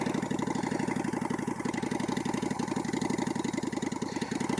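A Honda Shadow motorcycle idles after a cold start, its engine thumping in a steady, rapid, even rhythm, continuous and fairly close with no talking.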